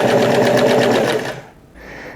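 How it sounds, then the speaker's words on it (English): A sewing machine runs steadily, stitching closed a knit fabric T-shirt collar, loud and close for over a second before stopping, then a softer hiss follows. "while I'm here at the sewing machine, I can go ahead and just close up the collar knit fabric"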